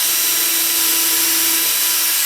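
A power drill bores a screw hole during a model helicopter build, a loud, continuous whirring whine that holds steady from start to finish.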